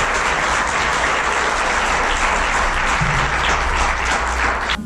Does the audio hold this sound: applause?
yes